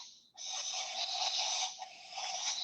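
A young barn owl gives a long, harsh, breathy hiss, close and loud, starting after a brief faint breath and holding almost steadily with a short dip midway.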